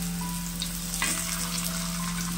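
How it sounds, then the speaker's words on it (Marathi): Potato tikki shallow-frying in a little oil on a flat pan gives a steady, close hiss of sizzling with a faint constant hum beneath it and no voices. "याच्यात आपण हे शालू फ्राय करून घ्यायचे"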